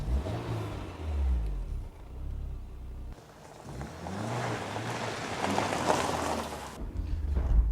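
Car driven fast with the engine revving and accelerating through rising and falling gear sweeps, mixed with heavy wind rush and road roar, fairly loud and continuous.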